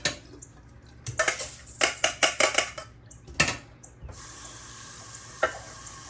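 Water splashes and swishes as rice is rinsed in a pot in a series of short bursts, with clinks of grains and metal, followed by a steadier running-water hiss.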